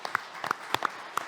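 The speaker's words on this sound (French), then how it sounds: "Applaudissements pour Marie-Sophie Rocas-Bezo" An audience at a real estate event in Tours gives sparse applause for the president of the Val-de-Loire notaries' chamber. A handful of separate claps ring out, faint and spaced apart, over a quiet room.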